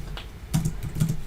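Typing on a computer keyboard, a short run of soft clicking keystrokes in two small bursts, fairly close and alone with no speech.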